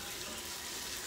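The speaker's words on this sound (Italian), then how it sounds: "mettiamo l'acqua a bollire" Tap water runs steadily into a pot being filled to boil for pasta, a constant close-up gushing hiss with no pauses.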